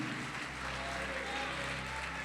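A church congregation applauds together in a dense, steady wash of clapping that fills the whole moment, loud and close, with no break or fade.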